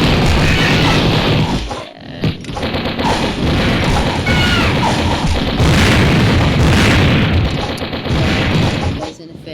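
A time bomb going off in the mobile shooter game Mini Militia, a loud, dense boom and crash that fills the clip, mixed with gunfire bursts and game noise under a steady wash of sound.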